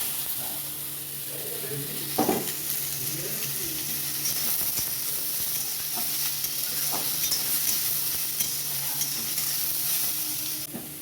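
Papaya frying with nigella seeds and dried chilli in a pan gives a steady broadband sizzle throughout, with occasional stirring scrapes and clinks and some soft background noise.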